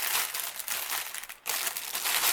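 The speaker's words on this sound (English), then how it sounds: "Sorry about the crinkling." Plastic packaging of a half-drill diamond painting kit crinkling loudly as it is handled and opened, close up, in bursts with a brief pause midway.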